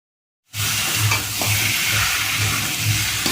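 Chicken kosha masala with turmeric, chopped tomato and chilli powder stirred and fried in a pan, a loud continuous sizzle starting abruptly after a brief silence, with repeated scraping strokes of the spoon against the pan.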